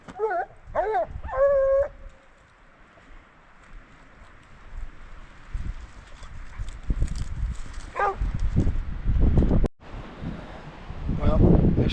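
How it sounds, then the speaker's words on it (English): Strong wind roars outdoors during a night hound hunt, a low rumbling gusty blast that builds and swells toward the end, with a few hound bays and howls near the start. "It's pretty dang windy."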